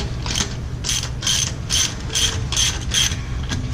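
Ratchet snugging down wheel hub bolts on a 2014 Ford Explorer, a sharp clicking ratchet in about eight quick regular strokes, close and clear with no voices.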